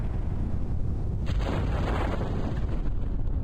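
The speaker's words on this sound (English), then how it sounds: "There's the explosion." A rocket explosion in the video game Kerbal Space Program: a broad rumbling roar swells suddenly about a second in and keeps going as a dense, windy blast without talk.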